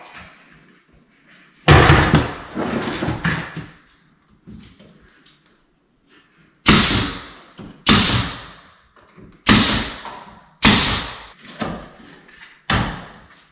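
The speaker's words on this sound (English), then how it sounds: "So I'll tack this and go on up and do the top." A hammer tacks a tar paper shim onto a wooden door jamb. There are a few scattered knocks, then a run of five sharp, loud, evenly spaced blows with short pauses between.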